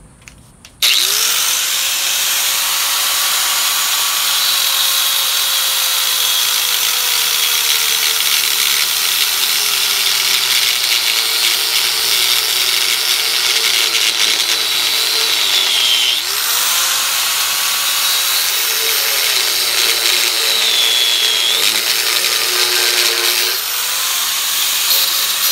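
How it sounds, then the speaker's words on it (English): An angle grinder cuts through a hot Damascus steel canister with a loud, continuous high whine that dips and rises in pitch as the disc bites and eases off. It runs almost unbroken for the full stretch, with no talking. "Take the grinder and see if we can cut this off."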